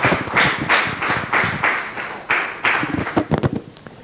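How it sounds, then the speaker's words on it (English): Church congregation clapping together in a steady rhythmic beat, loud and close, with occasional heavier thumps and a brief flurry of quicker claps near the end. "Give the Lord a clap offering."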